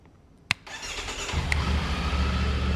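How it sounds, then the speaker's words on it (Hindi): Triumph Tiger 900 GT motorcycle with a titanium long-can exhaust and carbon tip starting up after a sharp click, then settling into a steady, loud, close three-cylinder idle rumble. "ये इसका बिल्कुल आइडियल साउंड है, एक बार आप इसका साउंड सुनो, इंजन का भी और एग्जॉस्ट का भी।"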